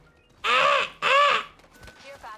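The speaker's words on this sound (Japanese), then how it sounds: "鳥の音" Two loud, harsh crow-like caws in quick succession, each about half a second long, followed by fainter chattering sounds, heard close and clear.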